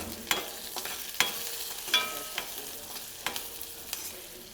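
Chilies fry in hot oil with mustard seeds, fenugreek, asafoetida and turmeric, giving a soft steady sizzle punctuated by sharp spoon taps and scrapes against the pan at uneven intervals.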